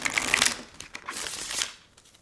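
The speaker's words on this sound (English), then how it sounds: "I love shuffling these cards." Tarot cards riffle and flutter in two brisk bursts, a crisp papery shuffling close by with no talking.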